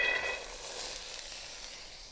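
Tiny eggplant dry fried with garlic in a pan without oil gives a faint, steady sizzle and hiss that is slightly louder at the start and then settles into an even, quiet crackle.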